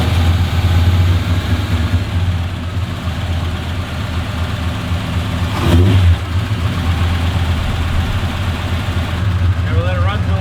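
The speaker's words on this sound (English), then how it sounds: "and now we start her up." Holden HQ with a 253 V8 and Holley Sniper EFI conversion, its engine loud and close, idling with rumbling revs and a sharp burst midway, while people talk over it.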